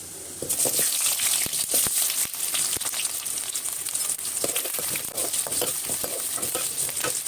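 Loud sizzling of onions frying in hot oil with fenugreek seeds for gongura thokku, with occasional stirring scrapes and crackles, continuous throughout.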